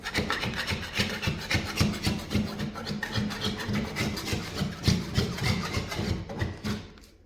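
A putty knife scrapes soaked wallpaper off a wall in steady, rapid rasping strokes, close and continuous, with a rhythmic scratchy texture throughout.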